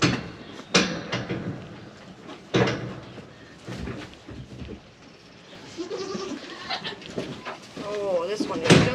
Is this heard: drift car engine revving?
no